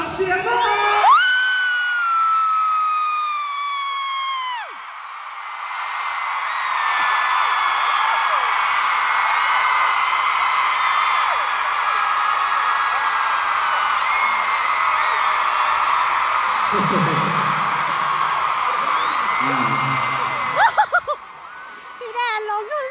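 A large crowd of fans at a concert scream loudly and continuously, high-pitched shrieks sustained for a long stretch, with a brief lull and voices near the end.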